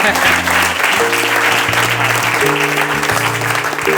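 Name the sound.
audience applause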